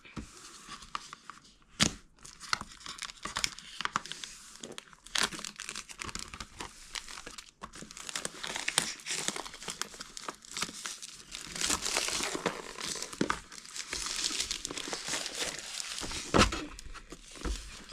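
Packaging for a 9-inch LAMTTO Apple CarPlay and Android Auto car screen crinkles and tears close up, with continuous irregular plastic and paper rustling, scattered sharp crackles and a few louder rips.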